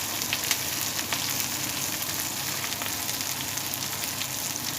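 Garlic cloves sizzle in a pan alongside lamb chops, making a steady, crackling fry with a few sharper pops. The sound is close and even throughout, with no voices.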